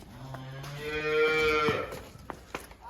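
A buffalo on a farm lows loudly nearby in one long drawn-out call, followed by a few short snorts and shuffling sounds.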